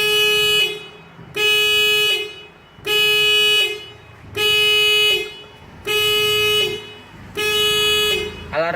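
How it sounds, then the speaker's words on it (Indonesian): The alarm of a fingerprint engine start system blares in loud, repeated horn-like bursts, six even pulses about a second and a half apart with short silent gaps between them. "Alarm ini akan berbunyi sebanyak 12 kali sesuai dengan program yang sudah saya buat."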